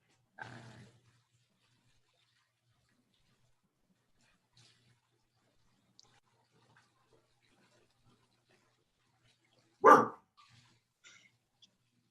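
A dog barks twice, one short bark at the start and a louder, sharper single bark later, separated by near silence.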